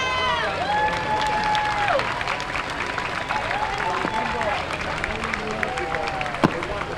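A Labor Day parade crowd in South Plainfield, New Jersey claps and cheers for the volunteer fire department, with scattered claps spread across the street beneath an amplified announcer's voice and tonal wailing in the background.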